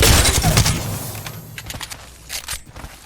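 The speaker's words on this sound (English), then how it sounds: "Go into the firing range and just shoot." Rapid gunfire from hip firing in the Apex Legends firing range, a video game: dense, loud bursts at the start that thin into scattered, sharper shots with brief gaps.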